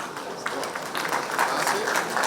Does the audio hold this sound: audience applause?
yes